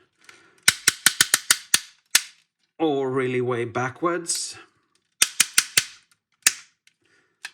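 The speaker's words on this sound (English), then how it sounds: "as I'm sure you can hear, the ratchets are really, really stiff" The stiff plastic ratchet joints of a Jinbao Dr Crank toy robot, a Gravity Builder Long Haul model, snap out in rapid bursts of sharp clicks, with a voice briefly in the middle and more clicks after.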